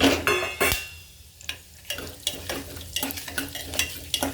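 Cumin, bay leaf, cinnamon and cloves frying in oil after peanuts for vegetable pulao, with a soft sizzle under repeated clicking spoon-and-pan stirring strokes, loud at first and then quieter.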